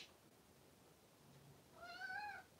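A cat gives a single clear meow near the end, close by in a quiet room, with faint background hiss and no talking.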